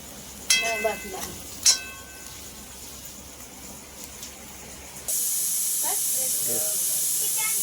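A pressure cooker cooking rice in a home kitchen lets out steam: after some brief talk and clatter, a loud, steady hiss suddenly starts and continues without a break to the end.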